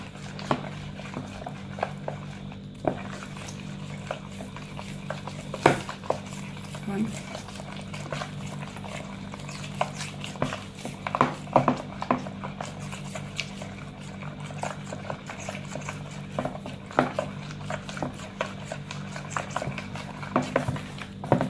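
A spoon stirs bread dough ingredients, milk powder among them, in a bowl, giving soft wet mixing sounds with scattered clinks against the bowl while a person talks over it.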